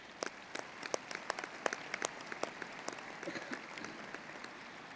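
Steady applause from a commencement ceremony audience, many hands clapping at a moderate distance with sharper individual claps standing out, no speech over it.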